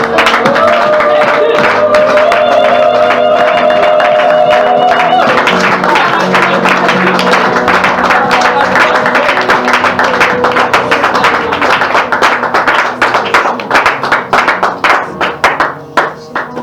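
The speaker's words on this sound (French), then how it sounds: "On acclame Jésus." A church congregation applauds Jesus with loud, dense clapping that carries on throughout, over sustained musical tones at first, then breaks into more distinct, rhythmic claps toward the end.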